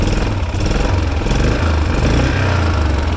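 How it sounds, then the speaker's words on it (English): Used Honda ATV quad bike engine running close and loud, a steady buzzy mid-pitched drone with slight rises in revs and no voices. "revving her up is very smooth and linear"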